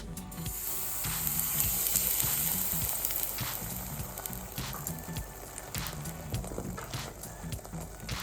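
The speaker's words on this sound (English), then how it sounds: "we want to hear that sizzle" A steady, crackling sizzle hisses continuously as toad-in-the-hole batter hits a hot pan, with a few soft knocks and clatters underneath.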